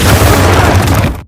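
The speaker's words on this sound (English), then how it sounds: "A massive explosion blasts a hole in the wall" A massive explosion blasts a hole in a wall in an action movie scene, heard as a loud, close, broadband roar for about a second before cutting off abruptly.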